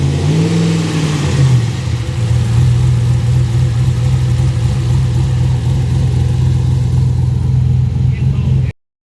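A cammed Chevy Avalanche V8, its cam larger than specified, rises briefly in revs and then settles into a loud, close, steady idle before cutting off abruptly.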